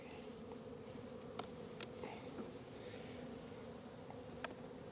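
A steady, dense buzzing of many honey bees close by at an open hive during a hive check, continuous throughout with a few brief louder passes of individual bees.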